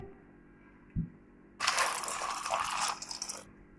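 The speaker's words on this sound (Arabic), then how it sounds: "مش هنغلي المكرونه، هنحط لها ميه مغليه" Boiling water is poured over half a bag of dry pasta in a kitchen, with a small knock first, then a steady splashing gush for about two seconds that tapers off. No one speaks.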